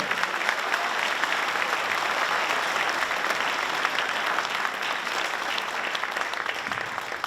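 A high school audience at a departmental awards night applauds its students, sustained, even, full-room clapping that holds steady at a strong level throughout.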